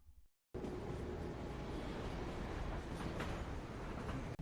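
After a brief quiet start, a steady low rumble of an underground subway train in a film running on rails, continuous and fairly even, with no voices.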